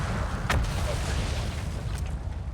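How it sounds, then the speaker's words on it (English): Continuous loud rumbling explosions fill the scene on Brittle Hollow in the video game Outer Wilds, a dense low roar with a sharper burst near the start and another toward the end. "I couldn't hear you over the explosions"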